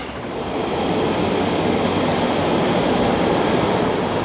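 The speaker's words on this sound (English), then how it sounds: "Here comes the train." Train arriving at a station on the Malaysia-Thailand border, a steady broad rumble rising after the first half-second and holding loud and continuous as it approaches.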